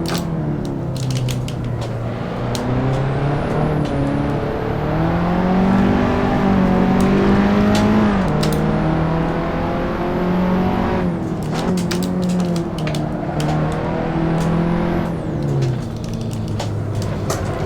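A race car in the video game Assetto Corsa drives continuously, its engine note rising and falling as it revs and shifts through corners, loud and steady throughout with no talk.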